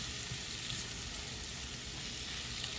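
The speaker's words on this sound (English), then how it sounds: "what we're doing now, we're just melting down that butter" Butter melting in a hot pan for an oven-style king crab, shrimp and sausage dish, giving a steady, close, even sizzle and hiss with no talking.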